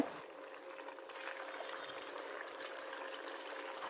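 Vada sizzling and bubbling as it fries in hot oil, a steady broadband hiss with no talk.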